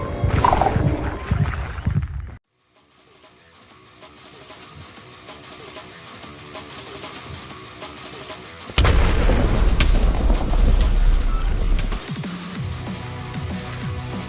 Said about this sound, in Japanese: 召喚時の爆発を大幅強化。